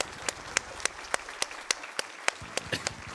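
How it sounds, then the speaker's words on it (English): Audience clapping at a video game speedrun marathon event during a Mega Man X2 race, sparse individual claps ringing out in an irregular rhythm, moderately close but scattered rather than a full ovation. "We should just clap as loud as possible right now."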